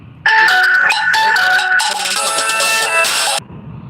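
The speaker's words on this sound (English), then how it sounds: "I got a phone call" A phone ringtone for an incoming call plays loudly for about three seconds, a bright melodic electronic tune with repeated tonal phrases, beginning abruptly and cutting off sharply.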